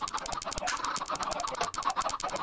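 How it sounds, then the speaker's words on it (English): Minecraft chickens cluck in quick, irregular bursts, several birds overlapping close by in a steady, busy chatter with no talking. "There's some chickens outside looking in."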